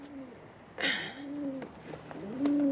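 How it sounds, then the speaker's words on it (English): Two pigeons coo inside an official pigeon carrier, giving soft, close, repeated rolling coos, with a brief rustle partway through. "2 pigeons in an official pigeon carrier."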